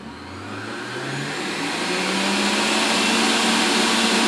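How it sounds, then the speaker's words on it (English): A Breville Juice Fountain Elite centrifugal juicer spinning up to its high speed setting, a loud, steady motor whine whose pitch climbs over the first seconds and then holds, close and continuous with no talking. "so there it is, running at full speed. It's actually kind of loud"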